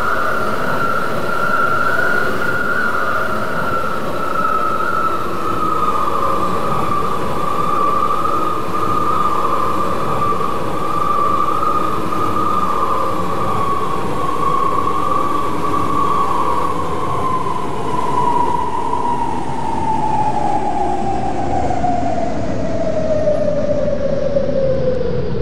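A SkyTrain metro train on the Vancouver-area line from Delta to Brentwood Town Centre rumbles steadily along the rails, with a loud continuous roar and a high whine that slowly falls in pitch near the end.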